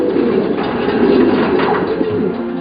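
Racing pigeons in Taiwan coo in mating cages, loud overlapping throaty calls close by, continuous and layered over one another.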